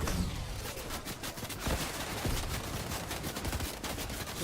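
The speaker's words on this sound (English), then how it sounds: "Just look at all that gunfire." Dense, continuous gunfire rattles through a battle royale video game, rapid overlapping shots and bursts filling the scene with no pause.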